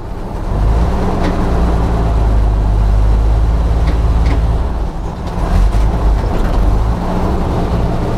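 A 1952 ZiS MMZ-585 truck, driven after two years standing idle, runs with a loud, steady low engine rumble and road drone, plus a few faint rattles, with no voices.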